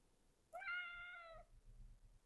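A cat gives a single clear, drawn-out meow of about a second, close and moderately loud, followed by faint low rustling in a quiet room.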